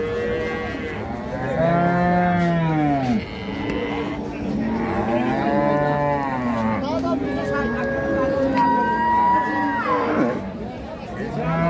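A Holstein Friesian cow at a Noakhali farm moos repeatedly in long, loud, close calls that rise and fall, with faint background chatter between the calls.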